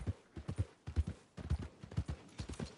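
In Red Dead Redemption 2, a horse's hooves clip-clop in a quick, steady walking rhythm, close and fairly soft, with no talking.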